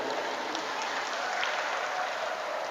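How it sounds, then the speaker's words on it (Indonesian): A crowd at an Indonesian Halal bi Halal religious gathering gives a dense, continuous round of applause, loud and steady throughout without a break. "tepuk tangan dulu"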